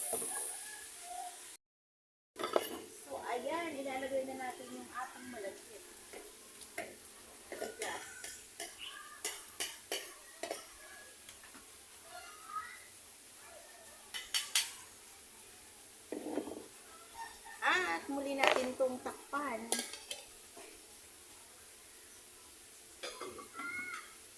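Glutinous rice tipped into a cooking pot and stirred, with scattered faint scraping and clinking of a utensil against the pot, an outdoor setting with occasional coughs and bird calls.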